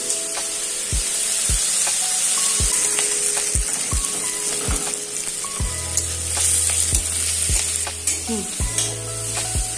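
Onions browning in a pan with a pinch of turmeric hiss with a constant sizzle, while a spatula scrapes and taps at an even, repeated rhythm, near and without speech.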